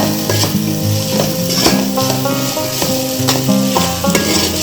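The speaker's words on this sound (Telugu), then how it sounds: "ఒక స్పూన్ అల్లం వెల్లుల్లి పేస్ట్, ఈ పచ్చివాసన పోయేలాగా వేసుకోవాలి" Ginger garlic paste fries in a pan for Telangana bagara rice, giving a loud, steady sizzle with repeated stirring scrapes and sharp spatula clinks throughout.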